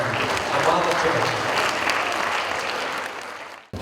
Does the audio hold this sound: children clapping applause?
yes